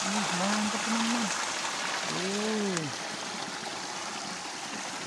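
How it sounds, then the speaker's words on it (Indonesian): A waterfall in a forest stream pours with a steady broadband rush of falling water, while someone talks loudly over it in two bursts. "Ternyata air terjun"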